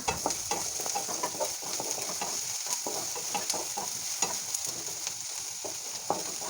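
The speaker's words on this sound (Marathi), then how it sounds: "अद्रक लसूणचा कच्चेपणा जाईपर्यंत आपण ह्या ठिकाणी फ्राय करून घेऊया" Onion with ginger garlic paste fries in a pan for a dahi masala bhendi, making a continuous close sizzle dotted with frequent sharp stirring clicks and scrapes of a spoon.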